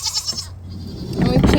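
A goat bleats inside a farm barn in a short, close call that swells louder toward the end over low background rumble.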